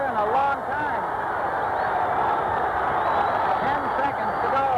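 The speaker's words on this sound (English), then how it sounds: "The crowd is cheering as they watch that second hand." Boxing crowd in an arena cheering near the end of a round, a sustained loud roar of voices and shouts with faint clapping mixed in, close and unbroken.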